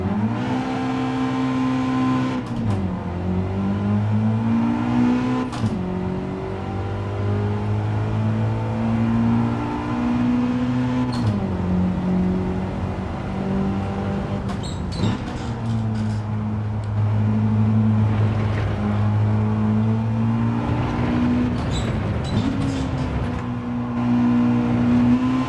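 A DTM race car engine in Gran Turismo 7 revs through repeated gear shifts, rising tones cutting off and climbing again in a steady cycle, loud and continuous throughout.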